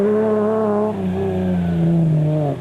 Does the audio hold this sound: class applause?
no